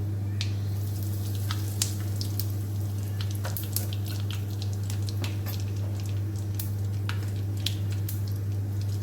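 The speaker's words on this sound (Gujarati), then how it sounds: "વઘાર કરી લઈશું।" Mustard seeds, cumin and asafoetida sizzling in hot oil for a tempering, a steady close crackle with scattered sharp pops over a constant low hum.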